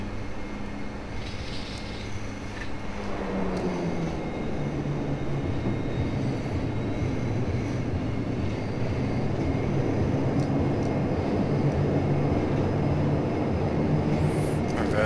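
Q400 turboprop thrust reversers roar during the landing roll in a flight simulator, a loud steady rumble with a shifting pitch early on, then a broad sustained wash of engine noise.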